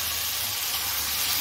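Fried potatoes and rohu fish sauté in a pan, giving off a steady, close sizzling hiss of hot oil with no pauses and no voices.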